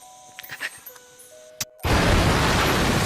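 An airstrike explosion sound effect: after a few faint clicks and tones, a sudden loud blast bursts in and becomes a sustained, roaring rumble that holds to the end, close and overwhelming.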